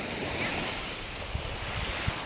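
Continuous sea surf rushes and roars nearby on the shore at Mithudi village, mixed with buffeting wind on the microphone and a couple of low thumps.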